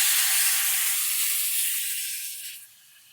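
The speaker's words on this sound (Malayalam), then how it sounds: "തക്കാളിയൊക്കെ ഒന്ന് ചൂടായി അതിനകത്തേക്ക് ഞാൻ തേങ്ങാപ്പാൽ ഒഴിച്ച് കൊടുക്കുവാണ്" Coconut milk made from instant powder poured into a hot pan of tomatoes, giving a loud, close hiss of steam that holds steady and then fades out sharply near the end.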